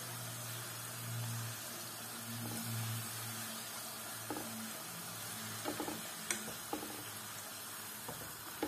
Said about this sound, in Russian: Они жарятся очень быстро.